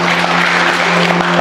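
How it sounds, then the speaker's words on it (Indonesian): A church congregation applauds during a sermon, a dense, loud wash of many hands clapping continuously and close, with a steady low hum underneath. "Nanggung, tepuk tangannya."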